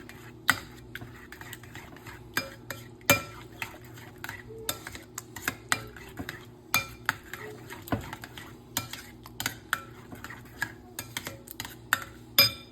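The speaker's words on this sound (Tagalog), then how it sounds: "mix lang natin. Mix lang." Utensils stirring and mixing dinakdakan in a bowl, a close run of sharp metallic clinks and scrapes at an irregular rhythm against a quiet background hum.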